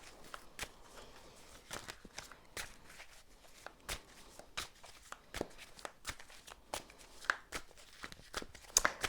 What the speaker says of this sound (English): I'm gonna shuffle and see what the cards have to say about this person's looks.